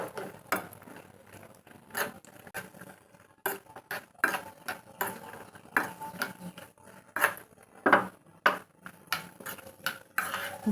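Chopped cashews and almonds frying in ghee for carrot halwa, heard as repeated metallic clinks and scrapes of a spoon stirring against the pan, close up and uneven in rhythm, with a faint sizzle underneath.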